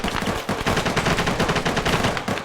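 Automatic gunfire in the ArmA military video game: rapid, closely spaced loud shots in a continuous rattling burst filling the whole moment, no speech.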